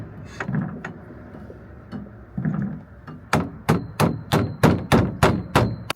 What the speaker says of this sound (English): using the rubber mallet to push it